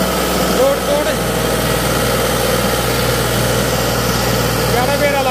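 A New Holland 3630 tractor engine runs with a steady, loud, rumbling drone that holds unbroken from start to finish, close by.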